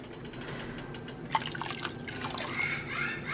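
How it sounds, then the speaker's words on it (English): Citric acid dissolved in water dribbles and splashes into a pot of milk, with small drips and a brief trickling pour, close by and fairly quiet. "So now I'm going to add my citric acid. I have mixed it into a little bit of water."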